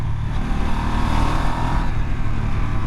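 A 2025 Ducati Multistrada V2 S motorcycle engine burbles on a ride, a steady, throaty mid-range drone with a faint rhythmic pulse and no talking.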